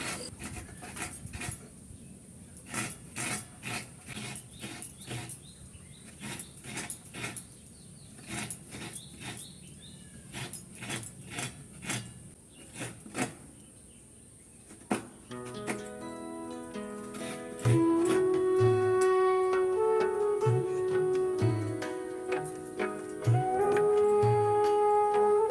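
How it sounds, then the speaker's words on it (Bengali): A coconut is grated by hand with rapid, rhythmic scraping strokes that repeat steadily and close by, then give way to music. "নারকেলটা কুড়ে নেব"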